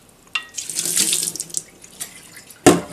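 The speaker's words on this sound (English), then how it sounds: "So I'm just going to dump them all into the strainer." Tomato seeds and water from a fermentation batch are dumped into a strainer, giving a close, splashy pour that runs for about two seconds, then a sharp final splash and clatter near the end.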